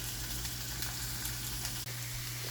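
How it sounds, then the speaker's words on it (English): Mushrooms and onions sizzling in a pan for an omelette, a steady close hiss of frying with one brief dip midway. "what I just did was add the onions"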